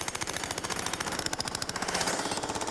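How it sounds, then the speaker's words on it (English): A jackhammer breaks up a concrete slab during a house renovation, working inward from the edge. It makes a loud, continuous burst of rapid hammering impacts, close and steady, with no talking. "His idea is to jackhammer away from the edge, tackling the concrete from the inside out."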